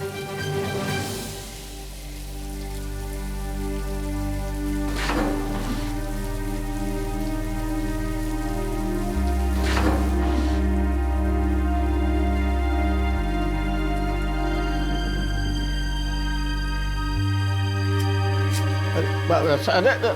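Steady rain falls through a domestic comedy scene at a house on a rainy day. It is a continuous, even patter with a background music bed running underneath.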